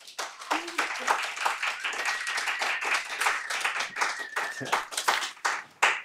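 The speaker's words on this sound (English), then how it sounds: "Please give him a big round of applause." A lecture audience claps steadily in a dense patter of many hands, with a few whoops and voices rising above the applause.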